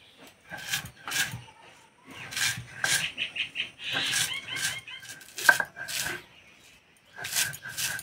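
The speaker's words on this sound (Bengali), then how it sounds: "এই মুড়ি গুঁড়ো করতে একদমই সময় লাগে না।" Puffed rice (muri) being ground into a coarse powder for pakora, heard close up as a series of short, dry crunching bursts with brief pauses between them.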